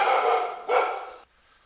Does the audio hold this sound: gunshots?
no